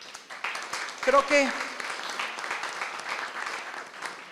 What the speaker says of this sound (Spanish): Un aplauso a Dan